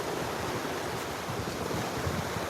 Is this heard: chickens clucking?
no